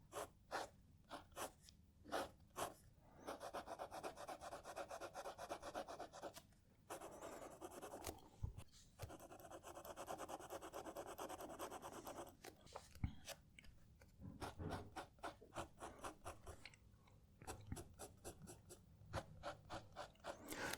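A stub-nib fountain pen drawing grid lines on paper, soft and close, with repeated scratchy strokes in bursts separated by brief pauses.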